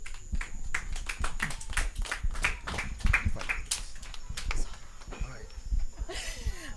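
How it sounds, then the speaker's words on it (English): Outdoor crowd applause at a nighttime political meeting on Beach Road, Palo Seco, with dense, steady clapping from a gathered audience that thins out toward the end. "So let us just give her a round of applause,"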